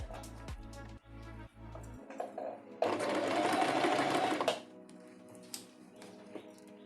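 A sewing machine runs a zigzag stitch on stretched fabric for a goth fairy skirt in one steady, loud burst of rapid whirring lasting under two seconds. It is framed by softer ticks and handling noises, with faint talk around it.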